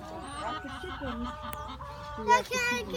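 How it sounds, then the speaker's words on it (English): Chickens on a family farm cluck and squawk busily close by, with a honking fowl call near the end, while people talk over the flock. "Lots of chickens."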